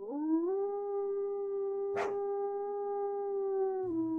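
Monster dogs howling in the Angels of Death horror game, a sustained layered howl with steady tones held for about four seconds, interrupted briefly by a sharp burst midway, with no talking.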